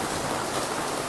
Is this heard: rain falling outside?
yes